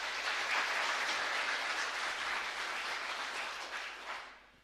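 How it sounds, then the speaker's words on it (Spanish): A congregation applauds at a live Mass in a chapel in Ñemby: steady, dense clapping from many hands, held evenly for several seconds before tapering off, with no talk over it. "Fuerte aplauso."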